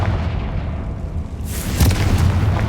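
A Confringo blasting spell bursts in Hogwarts Legacy with a loud, heavy rumbling boom that swells into a bright crackling blast midway through, with no voices.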